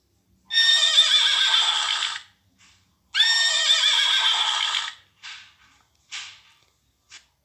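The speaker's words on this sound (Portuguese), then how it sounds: "É um cavalo." A horse neighs loudly twice in long, shaking whinnies, each about a second and a half, followed by a few short snorting calls, clear and close with no other sound.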